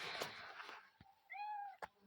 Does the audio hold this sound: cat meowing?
yes